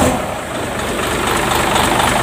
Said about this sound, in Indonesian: Ini kita starter dulu Mas Bro.